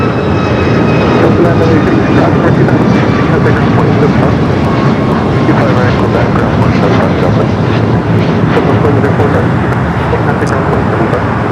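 Ten-year-old Airbus A330-300 widebody jet at Los Angeles airport, bound for JFK, gives a loud, steady engine roar with broadband rumble lasting throughout, with faint radio voices underneath.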